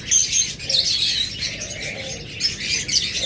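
Pet birds at a bird seller's, such as lovebirds, budgerigars and cockatiels, chirping and tweeting in rapid, overlapping high calls nearby, with a little wing flutter, continuous and lively.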